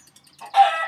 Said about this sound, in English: Hey, go away, chicken.